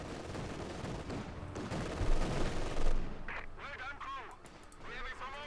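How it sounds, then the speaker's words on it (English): Heavy .50 cal machine-gun bursts and pack howitzer shelling in a Company of Heroes 2 battle rumble loudly together, then give way to scattered, higher battlefield noise while a commentator talks over the game. "50 cal away there for Markov. Then it's being hammered there by the Pack howitzer."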